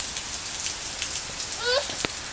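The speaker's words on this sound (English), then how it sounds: "Had a lot of rain today." Steady rain from a thunderstorm patters on a surface, a dense hiss of drops throughout, with a faint voice briefly rising near the end.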